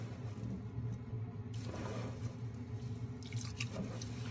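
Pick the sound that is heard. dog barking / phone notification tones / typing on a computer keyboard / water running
water running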